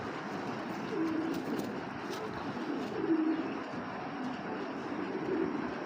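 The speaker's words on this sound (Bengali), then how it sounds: "এটা খুলনা থেকে টস করা কবুতর" A racing pigeon, tossed from Khulna and offered for sale at a pigeon market, coos softly and repeatedly in low, rolling phrases, close but quiet over faint background noise.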